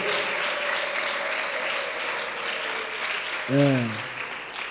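A congregation at Nyarugenge parish church applauds God in sustained, dense applause, with a single voice rising briefly over it near the end.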